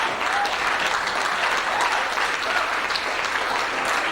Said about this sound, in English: Lawyers in the house, I'm sure you're the one clapping.